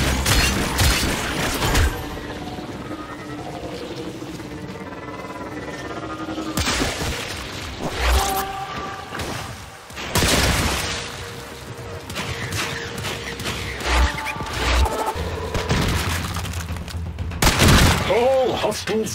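Weapon fire against hostiles and an alien hive in Warframe, with repeated loud bursts, booms and shattering impacts over a long firefight. Mechanical clanks and a voice speaking are mixed in.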